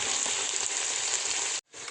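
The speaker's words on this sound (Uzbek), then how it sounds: "Bo'rakchalarni solib yaxshilab qizartirib qovuramiz." Lamb liver pieces fry over medium heat in a pan, giving a loud, even, close-up sizzle that breaks off abruptly for a moment near the end and then resumes.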